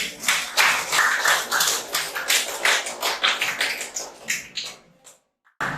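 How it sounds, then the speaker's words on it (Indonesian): A class of students claps hands together in a classroom during a mathematics lesson, a loud burst of many hands patting in uneven rhythm for about five seconds, then fading out abruptly. "tepuk tangan untuk semuanya"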